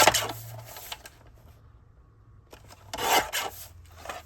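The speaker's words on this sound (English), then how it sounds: "So we'll just go ahead and trim this down." Cardstock being trimmed a quarter inch on each side for a card front, rasping strokes at the start and again near the end with a quiet pause between.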